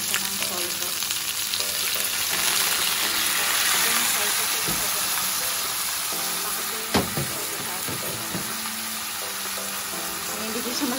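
Chicken sizzles steadily in a hot pan just after soy sauce goes in, a dense hiss broken by a few clinks of stirring, with someone talking over it.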